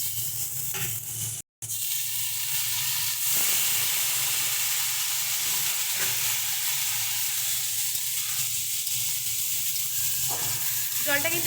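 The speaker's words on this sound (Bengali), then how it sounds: "এবার এর মধ্যে জল দিয়ে দিচ্ছি।" Water poured into a hot pan of kochur loti (taro stolons) with dried fish sets off a loud, steady sizzle and steamy hiss, with a brief cut near the start and faint stirring throughout.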